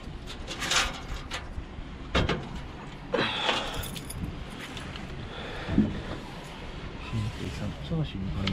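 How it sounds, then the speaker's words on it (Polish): Keys for a Case 6140 Axial Flow combine harvester jangle in loud, close metallic bursts that come and go among clicks and handling noises, while people talk. "A mam klucze."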